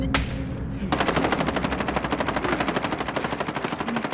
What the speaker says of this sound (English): Receiving hostile fire.